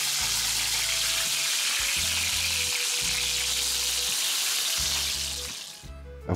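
Steady, loud crackling sizzle of crucian carp frying in oil in a pan fills the whole stretch, with faint clinks underneath, fading slightly at the end.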